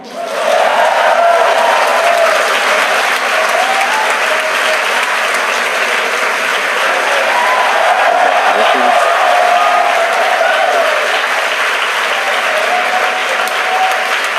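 A large crowd at SpaceX headquarters claps and cheers during a Falcon 9 launch without a break, a dense, steady roar of applause that stays loud throughout.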